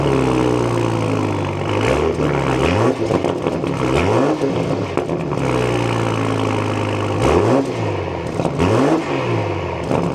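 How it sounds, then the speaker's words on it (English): A 2026 BMW M440i Coupe engine revs hard several times through an M Performance exhaust, each rise and fall of pitch rumbling throaty, loud and close, with idling between. "let's start this back up, get some rev clips with that M Performance exhaust."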